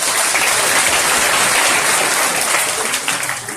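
A seminar audience breaks into sustained applause, dense and loud, with many hands clapping together and tapering slightly at the end.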